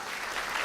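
A church congregation applauding, a dense, even wash of clapping from many hands, brief and steady with no voices.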